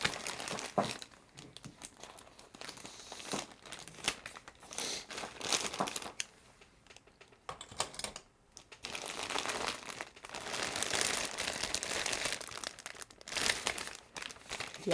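Packaging around an item is cut and pulled open in bursts of crinkling, tearing and crunching plastic, close and irregular, with brief pauses between handling sounds.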